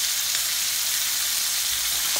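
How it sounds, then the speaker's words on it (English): Pork chop fat rendering in a hot pan, giving a loud, continuous close sizzle with dense crackling and faint pops. "we're going to render the fat"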